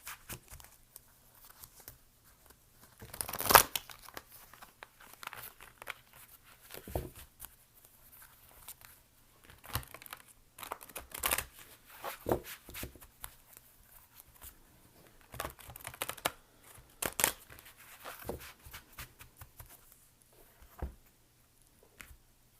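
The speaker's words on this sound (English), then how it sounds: "I'm going to go ahead and shuffle some general cards" Soft, intermittent papery rustling and flicking as tarot cards are shuffled close up, with brief louder riffles amid quiet gaps.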